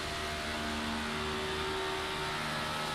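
A stock race car engine drones at speed during the Daytona 125 qualifying race at night, a steady, loud, tonal engine roar held throughout with only slight pitch changes.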